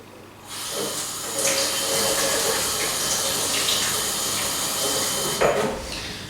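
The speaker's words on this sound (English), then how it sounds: "Fingers have just been washed, now need washing again." Hands washed under a running kitchen tap to clean off chocolate from making triple chocolate muffins, a continuous close rush of water with brief splashy changes as the hands move through the stream, no voices.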